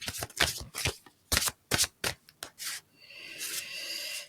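Oracle card deck shuffled by hand, a quick run of crisp riffling flicks followed by a longer soft sliding rasp, close up and with no voices.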